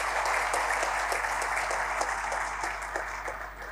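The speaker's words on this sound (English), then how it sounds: "And I think he deserves a round of applause." A crowd at a South African political manifesto launch breaks into sustained applause, dense clapping holding steady and close for a few seconds before easing slightly.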